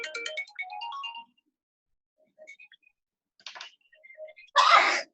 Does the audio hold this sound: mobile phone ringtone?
yes